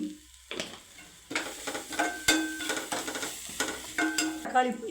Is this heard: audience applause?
no